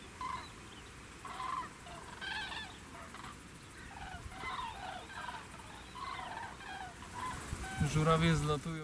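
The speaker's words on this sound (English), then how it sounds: "The cranes finally fly to one place. They come from all directions and several hundred birds have already landed on the ground" Common cranes call from a flock gathering at a roost, their rough trumpeting notes coming in repeated bursts at middle distance over a soft ambient hiss, with a louder honking rush near the end.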